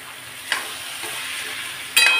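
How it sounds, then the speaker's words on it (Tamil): Sago goes into a frying pan and is stirred, giving a steady close sizzle with two sharper scraping stirs, one near the start and one near the end. "இப்போது இதில் நம்ம சாபுதானாவை போட்டுடலாம், அதாவது ஜவ்வரிசியை போட்டுடலாம்"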